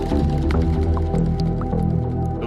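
Water droplet sound effects in a music track: plinking drips scattered over layered tones and drums, with a steady, full mix throughout.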